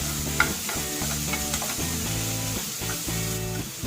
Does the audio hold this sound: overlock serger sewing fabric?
no